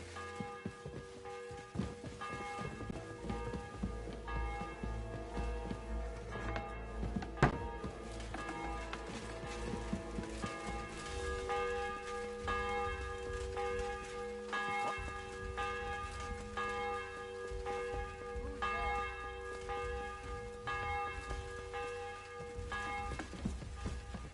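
A church bell tolls in the medieval video game Kingdom Come Deliverance 2, its repeated strikes ringing fairly faint and distant over a low outdoor ambience with light movement sounds.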